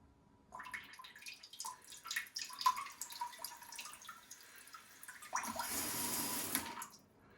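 Water sprays and splashes from a Clirass bidet toilet seat nozzle in a bathroom, a quiet hiss with dripping that swells into a louder, steady gush near the end.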